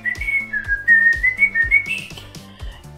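A person whistles a bright, lilting melody imitating the Disney intro whistle, a clear solo tune of gliding notes over soft rhythmic background music.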